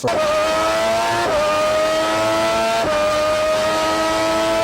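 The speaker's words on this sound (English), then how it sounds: "Ferrari at their prime, yes, give me more of those exhaust notes." Formula One Ferrari V10 race car engines scream at very high revs, a loud, steady, piercing exhaust note that drops briefly at gear shifts before climbing again, with no talking.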